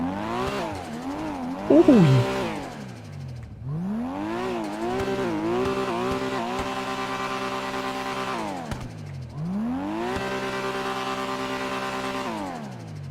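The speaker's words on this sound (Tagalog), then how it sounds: "kanina ko pa sa inyo pinagyayabang yung tunog ng kanyang engine" A Nissan Skyline GT-R R34 engine in GTA 5 revving repeatedly in long rising and falling sweeps, loud and close, with a brief squeal early on and a short voice exclamation.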